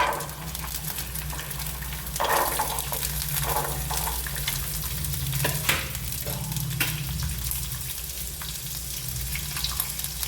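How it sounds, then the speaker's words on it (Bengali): Green beans frying in a tablespoon of hot oil, a steady broadband sizzle with occasional stirring scrapes and clinks, close and continuous for the whole stretch, no voices. "তেলটা গরম করে প্রথমে দিয়ে দিচ্ছি বিনসটা।"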